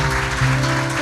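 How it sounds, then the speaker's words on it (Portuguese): Brief applause from a church congregation, mixed into steady music with sustained keyboard or organ-like tones, fairly loud throughout. "Você pode aplaudir ao Senhor?"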